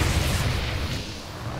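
Massed photon cannon fire in StarCraft II, a dense, loud rumbling wall of overlapping booms and bursts that persists evenly throughout with no gaps.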